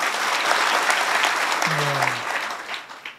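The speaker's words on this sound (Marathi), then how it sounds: "पुरुष मंडळी टाळी" Men in a kirtan audience in Nanded clap together in a loud, dense burst of applause that fills the first two seconds and then fades out, with a brief voiced tone in the middle.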